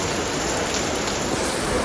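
Heavy rain pouring down at a farmhouse, a loud, continuous, even wash of rainfall with no voices.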